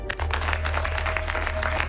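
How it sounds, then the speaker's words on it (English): Applause rises in a Doctor Who episode, a short steady wash of crowd clapping over a low steady hum, cutting off abruptly at the end. "Give yourselves a round of applause."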